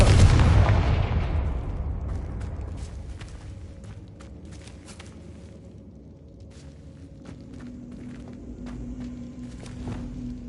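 A Confringo fire spell cast in Hogwarts Legacy, heard as a loud blasting burst at the start that fades into a low rumble, followed by scattered game impacts and a sustained tone near the end.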